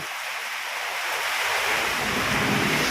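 Storm waves driven by Typhoon Kristine crash onto a coastal road, a loud, close roar of surf with heavy wind buffeting the microphone that swells and intensifies toward the end.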